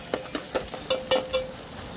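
Chopped potato sautéed in oil for radish sambar, with a spoon scraping through the pan in about half a dozen regular strokes over a faint, steady sizzle, close by and with no talking.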